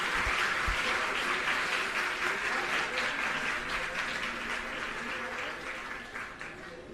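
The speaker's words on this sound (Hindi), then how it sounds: "स्वागत संबोधन के लिए जोरदार तालियों से स्वागत करें" Loud, sustained applause from an audience fills a government school inauguration ceremony in Bawana, Delhi, a dense steady clapping that holds throughout and slowly eases toward the end, with a few low thumps near the start.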